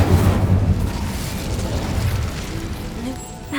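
Incendio fire spell cast in the Hogwarts Legacy video game, a dense rumbling whoosh of flame with a heavy low-end burst at the start that sustains and tails off over a few seconds, with faint background voices.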